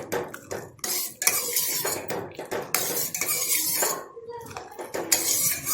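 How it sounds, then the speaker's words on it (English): A metal ladle stirring sugar into milk in a pot for papaya payasam, tapping and clinking against the pot in irregular bursts with scraping between the knocks, close by, with no voices. "You have to keep on stirring like this until all the sugar dissolves in the milk."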